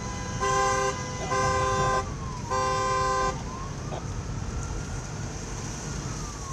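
Horns honk from a convoy of cars with flags under police escort, setting out toward Lutsk: three long, steady blasts over about three seconds, then a fainter wavering siren-like tone and continuous traffic rumble.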